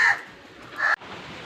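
Crows caw near a home kitchen where fish curry is being made, two loud harsh calls about a second apart with a faint hum of surroundings between them.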